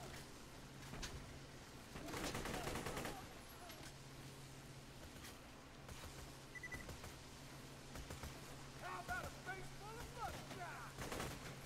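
Sharp gunshots crack at irregular intervals in the game Borderlands 2, with a few louder bursts standing out against a steady background hum.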